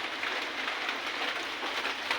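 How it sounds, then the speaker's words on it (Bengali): Heavy rain falls steadily during a power cut, heard from a veranda as a dense, continuous hiss that stays loud and even throughout, with no voices. "কারেন্ট চলে যাওয়ার পর প্রচুর বৃষ্টি শুরু হয়ে গেছে।"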